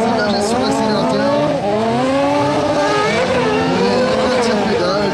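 A rally car at the Supersprint Les Cresnays 2025 event, its engine loud and close, revving up in rising and falling sweeps as the throttle is fed in gradually and gears are changed, with a voice talking over it.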